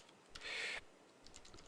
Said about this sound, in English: go ahead and type like 5 random words like apples